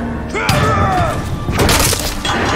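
A sharp crash followed by booming, shattering bursts and debris in the video game Middle-earth: Shadow of Mordor, loud and close, with a tonal sweep in between and a voice briefly under the noise.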